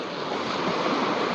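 Waves break and wash along an Omani shoreline in the evening, a dense unbroken rush of surf mixed with wind buffeting the mic, loud and near.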